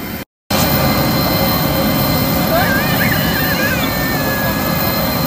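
A private jet takes off bound for Dubai, its engines a loud, steady roar with a thin rising whine over it, heard from inside close by throughout.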